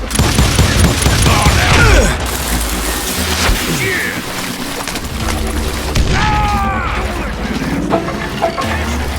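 Gunfire and booming impacts in the video game Call of Juarez Gunslinger, loud near shots and crashes at the start, then scattered bangs and whizzing effects over game background sounds.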